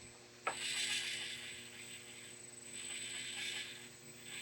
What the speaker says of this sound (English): You hear the whine of the motor, but you don't get like jumpiness.